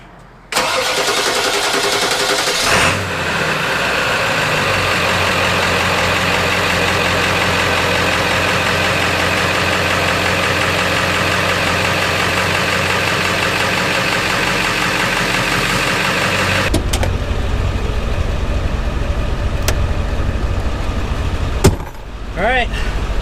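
Ford Powerstroke diesel truck with an E4OD transmission cranks and fires, then settles into a loud steady diesel idle that cuts out abruptly, followed by quieter rattles and clunks.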